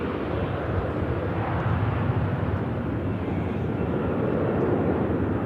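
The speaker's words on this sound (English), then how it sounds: "Lufthansa A321 climbing out of Manchester Airport here." A Lufthansa Airbus A321 with IAE engines climbs out of Manchester Airport, a steady, broad jet roar holding at even loudness throughout, fairly near and alone with no voices.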